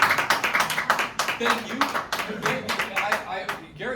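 An audience claps at a Media Institute luncheon, a burst of applause with someone speaking over it at close range.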